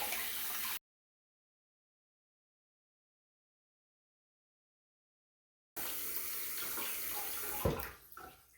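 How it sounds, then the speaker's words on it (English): A Baril single-handle bath faucet runs water into a bathtub in a steady, hissing rush, heard briefly at the start and again after a silent gap, with a few splashes and clunks near the end. "I'm going to let it fill all the way up to the very top"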